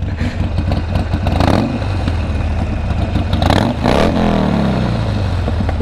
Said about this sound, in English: That exhaust sounds nice.